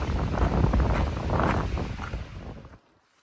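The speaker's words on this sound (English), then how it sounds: "It's windy up here in the mountains." Strong gusty wind in the mountains along the Appalachian Trail, buffeting the microphone with a deep rumble, steady for a few seconds before cutting off abruptly.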